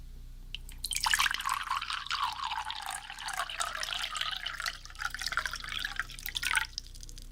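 Hot dog water drips and pours into a container in a steady trickle, close and moderately loud, running continuously for several seconds in a quiet indoor setting.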